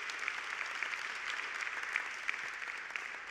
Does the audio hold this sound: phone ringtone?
no